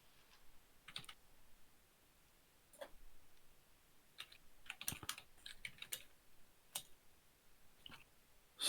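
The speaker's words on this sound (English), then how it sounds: "Sorry about the typing." Keystrokes clatter on a computer keyboard during a tabletop AD&D 2nd Edition Spelljammer session, coming in scattered bursts of quick clicks with short pauses between, fairly faint and close, with no talking.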